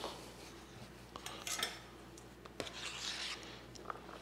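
Chopped tomato and onion are scraped into a bowl, giving soft clinks of a utensil against dishware and light rubbing scrapes, quiet and close with no talking.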